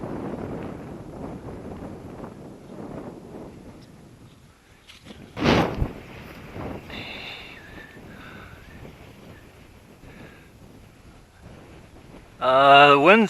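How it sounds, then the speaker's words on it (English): Gusty wind buffets the microphone on a hillside slope, a low rumbling roar that is strongest at first and then eases off, broken by a sharp knock midway and a brief voiced burst near the end. "The wind's just dropping right off now."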